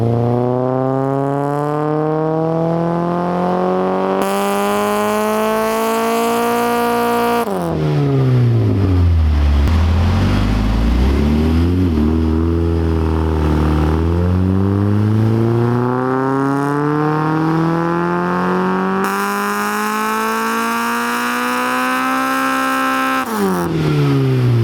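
An Infiniti G20 with an SR20VE engine revs on a dyno. It is loud and sustained, rising steadily in pitch, dropping sharply, then climbing again through repeated pulls, with no voices.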